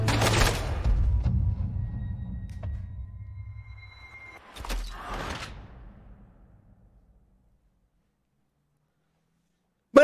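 Gunfire in Red Dead Redemption 2 during a criminal operation, a burst of sharp shots up front, then a second loud crack around the middle fading into a long decay and near silence, with one abrupt noise at the very end.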